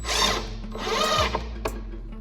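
A power drill whirs in two short bursts, the motor's pitch rising and dipping, with a brief click after the second burst.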